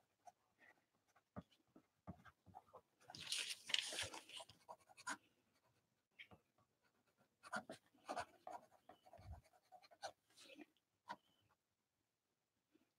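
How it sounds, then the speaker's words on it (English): A Sharpie pen scratches across postcards in short, faint, intermittent strokes, close by in a quiet room, with a slightly louder rustling burst partway through. "I think I've used this pen, this Sharpie on wet media, and it's just a little scratchy."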